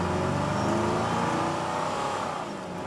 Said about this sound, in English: You don't have to rev the car that loud